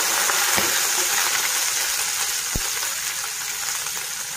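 Garlic and bay leaves fry in hot oil with a steady, even crackle and a sharp pop or two. No one speaks.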